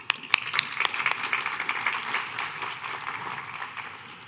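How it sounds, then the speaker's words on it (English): Applause from a conference audience at a blockchain and mining event, a dense burst of clapping that starts sharply and tapers off over a few seconds. "let's give a round of applause to Mo."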